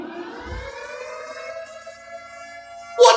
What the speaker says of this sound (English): we could hear a loud siren buzzing in the distance.